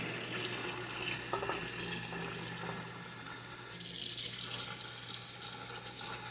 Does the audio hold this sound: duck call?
no